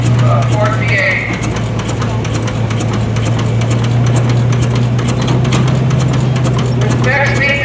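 A Ford tractor with a Ford V8 engine runs steadily at a tractor parade, a low continuous engine hum close by, with crowd chatter and some intermittent clopping over it.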